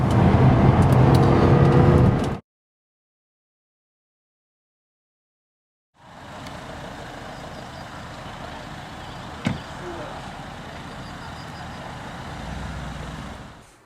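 A Jaguar XJ Supersport heard from on board while driving the Nürburgring Nordschleife, with a loud engine and road rumble that cuts out abruptly, then returns as a steadier drone.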